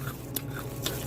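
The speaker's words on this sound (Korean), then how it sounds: "바삭바삭한 소리 들리시죠?" Someone chewing crispy, spicy fried chicken up close, two sharp crunchy bites over a low background hum.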